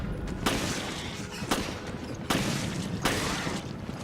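Four sharp gunshots ring out at roughly even intervals in the survival-horror game Resident Evil: Revelations, each a loud broadband crack over a steady rumbling game ambience.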